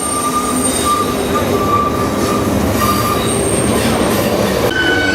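A freight train rumbles steadily past nearby, with wheels squealing and a faint high screech over the continuous rolling noise.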